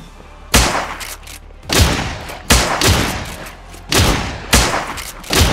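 Gunfire in the video game Miscreated: six loud, close gunshots spaced roughly a second apart, each a sharp crack with a booming low thud and a short decaying tail, with no talking.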